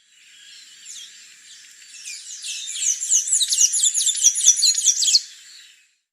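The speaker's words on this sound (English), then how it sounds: "Blue-gray tanager." Blue-gray tanager singing a high, rapid series of sweet chirping and twittering notes that grows louder and busier before stopping abruptly, alone and clear.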